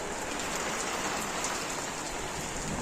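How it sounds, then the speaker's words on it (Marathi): Heavy first monsoon rain pours down in a village, a dense, unbroken hiss of drops drumming on surfaces, loud and close throughout with no voices. "अशा प्रकारे हो पाऊस हा जोरात इलो हा धडधड आईत"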